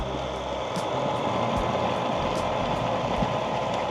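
A home rock tumbler spins with a steady, close rumbling whir and faint, rhythmic clicks of stones tumbling inside. It runs continuously with no talking.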